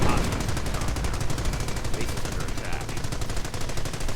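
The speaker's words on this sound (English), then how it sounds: "Firing away now at the enemy base." Dense, continuous machine-gun and rifle fire fills the air as units assault an enemy base in a World War II real-time strategy game, with rapid rattling bursts over a constant battle din.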